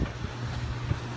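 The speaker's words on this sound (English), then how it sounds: "it's pretty windy" Gusty wind blows outdoors at a house being soft-washed, a steady low rumble of buffeting against the microphone with a brief stronger gust near the end, no voices.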